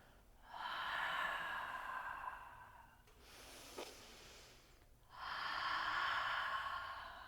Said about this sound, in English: Take in a huge breath. Exhale it out.